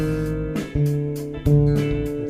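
An electric bass picks its way through a halting line, sustaining one low note and then sliding to the next in short tentative steps, played close and alone.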